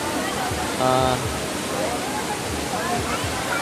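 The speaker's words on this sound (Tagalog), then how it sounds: "Balagbag Falls located at Infanta Quezon." Balagbag Falls, a waterfall in Infanta, Quezon, roars as a constant dense rush of falling water, near and loud, while people talk and call out over it.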